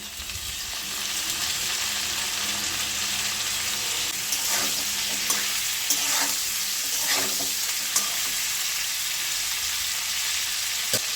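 Cauliflower frying with black cumin in a pan, a steady close hiss of sizzling oil throughout with a few soft scrapes of stirring in the middle.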